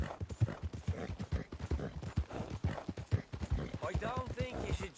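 Rhythmic hoofbeats of a galloping horse in Red Dead Redemption, steady and clear, running under continuous talking.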